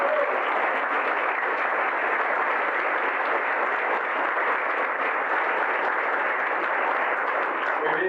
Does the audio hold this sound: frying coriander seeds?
no